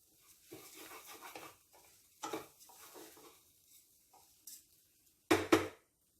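Rice and masala are stirred in a pot for coconut milk pulao, with soft intermittent scraping bursts of a spoon against the pot and a louder clatter near the end, faint sizzle between strokes.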